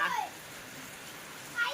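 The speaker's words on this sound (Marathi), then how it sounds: "या तर पाऊस पडतोय नॉर्मल आहे जास्ती मोठे पण नाही आणि बारीक पण नाही" Moderate rain falls in a steady, even hiss, neither heavy nor light, continuing through the whole short stretch, with faint children's voices in the background.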